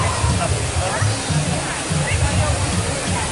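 An illuminated waterfall at a Disney theme park roars in a steady, dense wash, with low voices and crowd murmur running beneath it.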